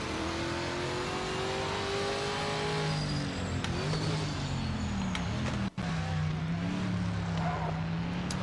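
Race car engine in the Project Motor Racing game leaving the pits, a steady droning whine that rises and falls through gear changes, with a brief cut partway through, moderately loud and continuous.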